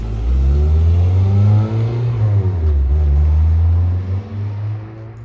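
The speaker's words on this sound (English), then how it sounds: "Tony's driving his Sentra." A Nissan Sentra pulling away, its engine revving in a loud, close, low rumble that rises and dips in pitch as it accelerates, then fades slightly toward the end.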